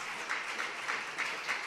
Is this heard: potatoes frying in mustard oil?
no